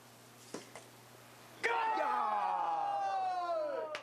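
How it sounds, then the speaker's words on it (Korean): Students cheer and shout in a burst of excitement as a humanoid robot scores a goal at robot soccer, loud overlapping whoops that erupt suddenly after a couple of faint knocks and hold for several seconds. "학생들 막 환호성 들었죠"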